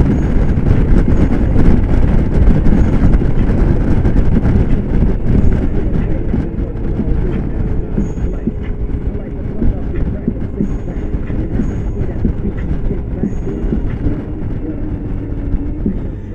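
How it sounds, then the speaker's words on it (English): Wind buffets loudly during a ride on a Suzuki Burgman scooter, a constant low roar that rises and eases slightly with road noise mixed in. "I can hear the wind blowing, the wind blowing"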